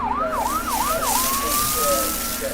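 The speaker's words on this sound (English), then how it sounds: "Sometimes firefighting sounds like this." A fire engine's siren wails loudly and close, several rapid rising-falling whoops giving way to a long steady tone, with no talk over it.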